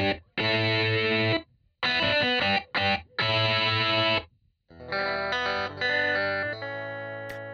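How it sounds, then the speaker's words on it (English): Electric guitar played through heavy distortion from the Native Instruments Kontakt 3 sample library, loud sustained chords in several bursts separated by short gaps, then a brighter, cleaner-toned melodic passage. "Or the pickup position and distortion on a guitar sound."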